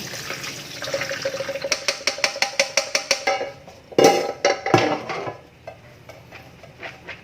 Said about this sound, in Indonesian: Sekarang setelah 1 jam, kacangnya akan saya saring.